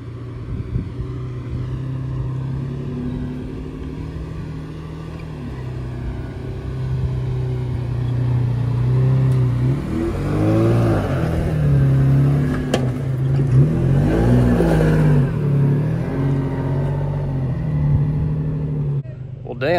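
A Nissan off-road truck at a Florida off-road club meet revs its engine while pushing through deep water, the engine note swelling and surging in the middle stretch over a steady low rumble, with people talking.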